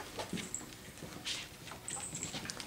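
Puppies whimper and yelp softly near an outdoor fence, with scattered high squeaks and light patter over a low background murmur.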